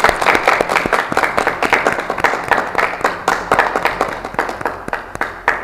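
Audience applause at a Nepali blind-date show's grand finale event, steady dense clapping from a crowd throughout, loud and close with no pauses.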